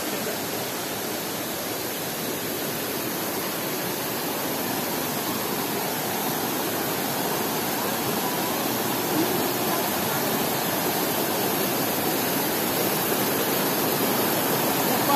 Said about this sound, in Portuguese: a caída que temos aqui dessa cachoeira